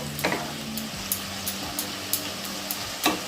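Spices with cumin powder sauté in a pan, with a low background sizzle broken by a series of sharp spatula scrapes and taps at an irregular rhythm, close and fairly loud.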